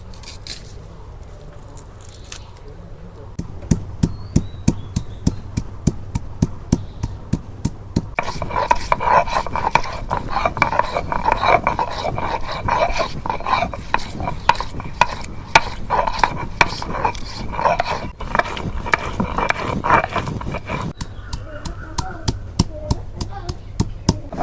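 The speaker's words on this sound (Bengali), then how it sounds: "এখন আমি শিলপাটার মধ্যে ময় মশলা বাইরে নেব।" Spices for a broiler chicken curry ground by hand on a stone sil-pata: close, steady rasping and scraping strokes in a brisk rhythm that builds and runs continuously for most of the stretch before easing off.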